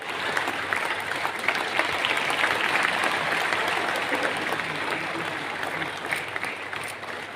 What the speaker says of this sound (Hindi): आप सभी को तालियों की गड़गड़ाहट होने पड़ेगी।